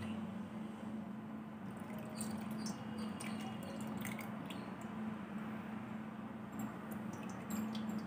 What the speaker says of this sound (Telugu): బౌల్లో చింతపండు బాయిల్ చేసుకున్న వాటర్ వడపోసుకోవాలి